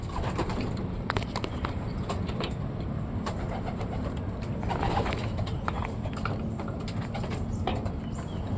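Racing pigeons coo softly amid a busy outdoor bustle, with scattered bird calls and occasional hoof-like clopping in the background.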